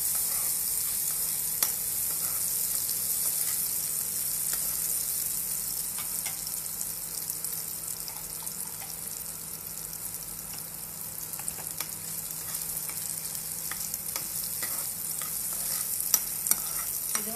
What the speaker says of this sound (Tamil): கொஞ்சம் லைட்டாக கலர் மாறுற அளவுக்கு நம்ம வறுத்துக்கலாம்